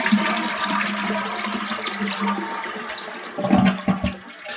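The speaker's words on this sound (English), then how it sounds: "Toilet flushing." A toilet flushes in one steady rushing surge of water that swells near the end, then drains and gurgles away, heard alone at close range.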